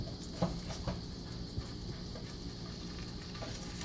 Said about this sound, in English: Okay, so we're going to flip this thing